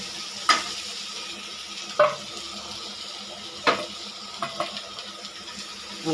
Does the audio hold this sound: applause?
no